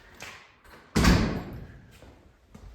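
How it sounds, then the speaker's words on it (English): A workshop door, the kind a VW Beetle is pulled through, swings open with a loud thump and rattle, preceded and followed by softer knocks and clunks nearby. "I'm going to open this door out, let all the heat out"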